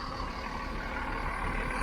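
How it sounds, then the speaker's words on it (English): A tour bus passes on a city street, giving a broad, steady engine roar with hissing road noise, close and fairly loud throughout. "Oh look, another tour bus."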